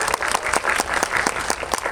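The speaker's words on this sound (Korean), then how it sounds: "큰 박수 맞으십니다" Audience at a film screening Q&A applauding an actor as he is introduced, sustained clapping from a large indoor crowd, dense and even for the whole stretch.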